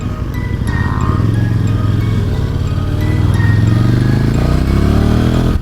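A motorcycle engine runs loud and close with a steady, throaty rumble that swells slightly toward the end, with no talk over it.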